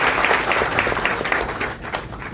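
Steady applause from an audience at a public people's court gathering held by an MP, dense clapping running continuously and fairly loud throughout.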